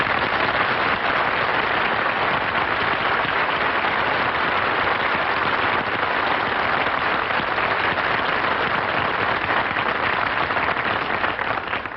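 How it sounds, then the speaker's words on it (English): Studio audience applause greeting a character's entrance on a radio comedy program: a loud, unbroken wash of clapping that holds at an even level throughout, with no voices over it. "I didn't mind the applause he got on his entrance"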